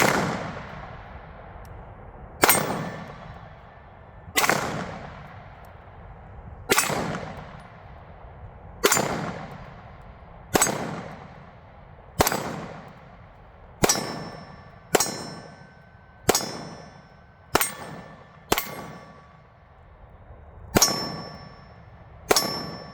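A pistol, a budget Beretta-style handgun, fires at 8-inch steel targets. About a dozen sharp shots each end in a bright ringing clang that decays, spaced irregularly, some in quick pairs, with no talk.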